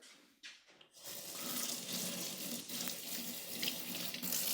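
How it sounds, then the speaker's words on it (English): Cold tap water runs steadily into a kitchen sink as vegetables are rinsed under the stream, a continuous close splashing hiss after a brief quiet start, with no voices. "And then just wash these guys under cold running water."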